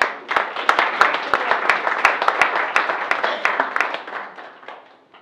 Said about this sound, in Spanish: Va a recibir un fuerte aplauso a Toastmaster Chandril Kakian.